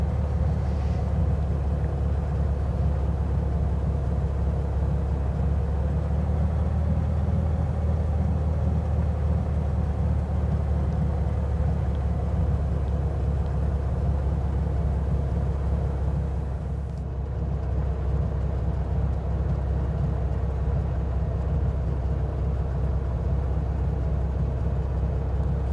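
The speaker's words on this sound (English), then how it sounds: "I'm going to go ahead and taxi off here at Alpha 2" Steady low engine drone of an aircraft taxiing on the ground in Microsoft Flight Simulator 2020, a continuous unbroken rumble lasting the whole stretch with no talk.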